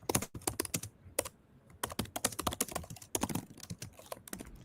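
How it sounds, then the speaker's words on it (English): Rapid typing on a computer keyboard comes through an open microphone on a group online call about a crypto ecosystem, a dense, uneven run of close, sharp key clicks and clacks with brief pauses and no speech. "Whoever's typing when they're not talking, please mute yourself."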